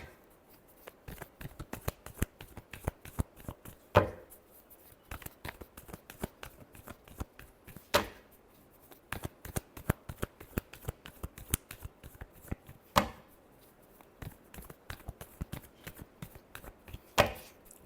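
Tarot cards being shuffled in repeated quick riffling bursts, crisp papery flutters with a few sharper slaps about every four seconds, close and alone.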